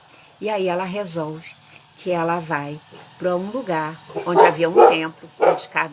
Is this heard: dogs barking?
yes